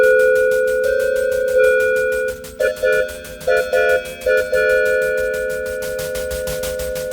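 A train whistle synthesized on a vintage 1984 Yamaha DX7: long steady tones, then a run of short stuttering toots, fairly loud and with no voices.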